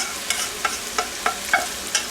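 Rice stirred into ground beef and vegetables in a pan: a steady series of about six soft scraping strokes at an even pace, close and fairly quiet, with a faint fry underneath and no talking.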